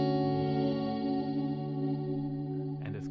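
A sustained guitar tone runs through an Axe FX 3 delay with faster modulation rate, producing a wavering chorus-like shimmer that fades slowly, with a faint rustle near the end.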